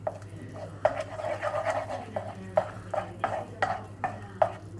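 A spoon scrapes and stirs roux and stock in a pan for a creamy chicken and ham pie, giving close, soft swishing strokes with several sharper clicks against the pan at a steady rhythm.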